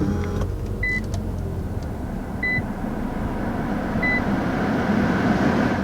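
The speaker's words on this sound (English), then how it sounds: "Now to start up the QX50, your push button start is located right here." A 2020 Infiniti QX50 started by push button settles into a steady low engine hum inside the cabin, with a few soft electronic chimes beeping at intervals over it.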